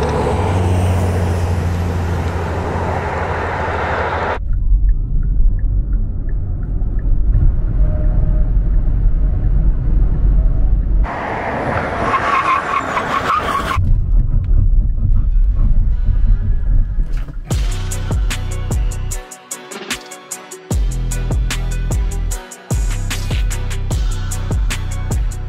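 A Hyundai Ioniq 5 electric car accelerates hard from 0 to 100 km/h, giving a loud rising whine mixed with rushing road and wind noise, with shifting bursts of rumble.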